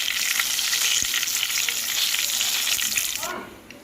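Bay leaves and cinnamon sizzle steadily in hot oil in a pan, a dense continuous frying hiss that fades abruptly near the end, with no talk.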